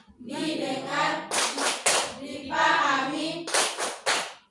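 Students recite a chant in unison between crisp volleys of synchronized group clapping, a classroom focus clap with several tight claps after each spoken phrase, loud and close.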